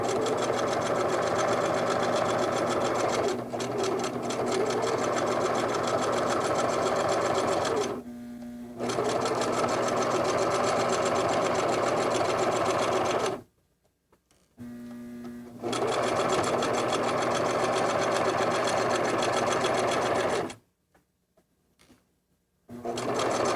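A sewing machine stitches quilt blocks with a steady, loud mechanical whir that runs in long stretches. It stops twice for back tacking and for removing the fabric, leaving near-silent gaps between the runs of stitching.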